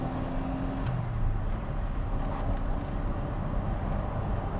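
A DeLorean DMC-12 pushed through a bend gives a steady low engine and road rumble with a light wash of wind noise, continuous and even throughout.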